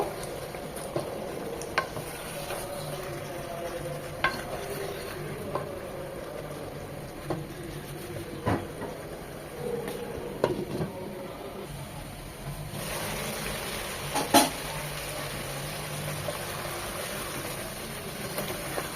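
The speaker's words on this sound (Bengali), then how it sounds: "আলু দিয়েও এই চিকেনের সাথে 4 থেকে 5 মিনিট কষিয়ে নেব।" Chicken, potatoes and tomato sauté together in a pan with a low continuous sizzle, broken by repeated scrapes and knocks of a stirring spoon and a louder scraping spell near the end.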